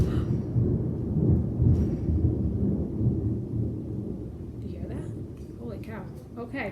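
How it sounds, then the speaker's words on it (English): Thunder rumbling through a thunderstorm, a long, deep, rolling roar that stays loud and steady, with a person talking faintly near the end. "Whoa, it's lightning and thundering here."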